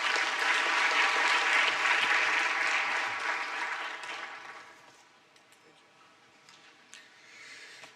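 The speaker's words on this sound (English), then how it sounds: "Another round of applause" Loud sustained clapping from a business forum audience fills the hall at first, then gradually thins and fades to a few scattered claps.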